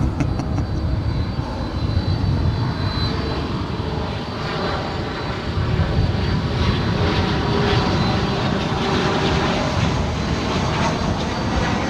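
Airliner taking off at Dallas-Fort Worth International Airport, a loud, sustained roar of jet engines with broad rumbling noise that holds steady throughout, heard from nearby.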